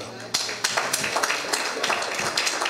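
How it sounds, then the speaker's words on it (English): A church congregation clapping their hands in a loose, repeated rhythm of sharp claps during a sermon, with a preacher's voice speaking over the clapping. "give him a hand clap"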